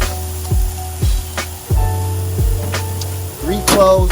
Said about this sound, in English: Now we're going to have our diced red onion.